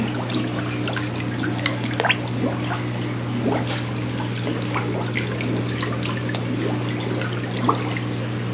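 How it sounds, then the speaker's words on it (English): Water trickles steadily along a wildlife preserve walkthrough at Weeks Bay, a continuous close splashing with small drips over a constant low hum, and no one speaks. "Yeah, water."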